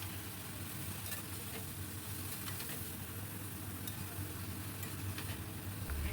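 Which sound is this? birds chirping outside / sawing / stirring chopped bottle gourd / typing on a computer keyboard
stirring chopped bottle gourd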